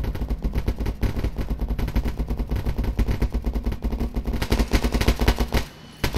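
Heavy gunfire in the military game Arma, a dense run of rapid automatic bursts and loud repeated shots with vehicle rumble underneath, pausing briefly near the end before another shot cuts in.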